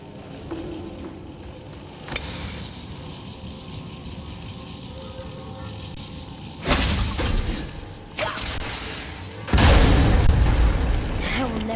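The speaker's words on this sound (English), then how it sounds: "I will never get tired of shattering things with this." Objects shatter in God of War gameplay on PC: several loud, sharp crashes burst out one after another over a low, steady game ambience.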